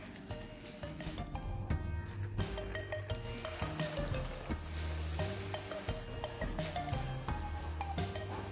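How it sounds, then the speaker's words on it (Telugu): Round thenmittai dough balls deep-frying in hot oil, a steady loud sizzle with bubbling and occasional stirring clinks and drips, continuous and close, no voices. "ఇవి మెల్లగా పైకి తేలుతూ గోల్డెన్ కలర్లోకి మారుతాయి."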